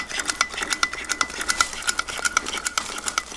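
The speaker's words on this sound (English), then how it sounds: "you might have to give it a couple pumps here and there" A vintage Coleman stove's pressure pump is worked in a quick, steady run of close, light clicking strokes, repeated evenly for several seconds.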